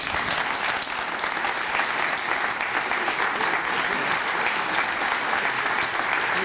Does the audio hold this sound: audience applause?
yes